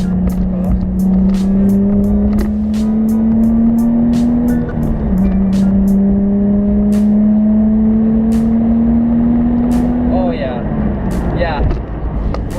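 A Nissan 350Z engine revs and drones steadily while driving through the gears, its pitch rising then dropping at a shift, heard loud and close from inside the car with faint ticking above the engine tone.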